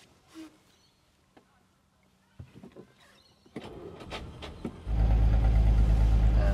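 A 1951 Bentley MKVI Standard Steel Sports Saloon is started: quiet clicks and shuffling lead to a brief starter crank, then the engine catches and settles into a loud, steady, close idle.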